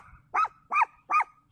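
A dog at a mountain cable-car station gives three short, evenly spaced growling barks, close and fairly loud, with quiet pauses between them.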